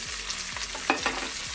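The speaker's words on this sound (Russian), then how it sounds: "И все, и также продолжаем жарить." River perch frying uncovered in oil in a pan, a steady close sizzle and crackle with a couple of brief louder pops, no talking.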